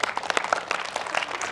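An audience claps for a psychologist and soccer coach being introduced as a speaker, a short patter of scattered hand claps at moderate volume with no talk over it.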